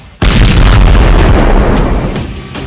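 Explosion from an Israeli missile defense system intercepting a rocket or missile: a sudden, very loud, deep boom that rumbles on and slowly fades over a couple of seconds.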